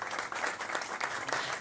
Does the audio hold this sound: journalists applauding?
yes